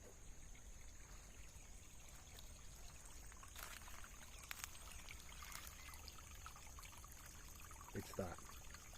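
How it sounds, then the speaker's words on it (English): Water trickles faintly through an irrigation canal in rural San Patong, Chiang Mai, Thailand, a steady low wash under outdoor ambience, with a couple of brief louder splashes near the end. "If you can hear a trickle sound,"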